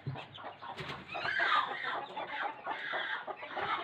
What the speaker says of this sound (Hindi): खैर से दो मुर्गियाँ जी अंडों पे बैठी हुई हैं